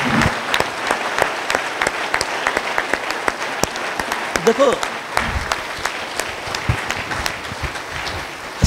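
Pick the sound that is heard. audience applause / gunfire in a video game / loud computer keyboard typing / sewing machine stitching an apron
audience applause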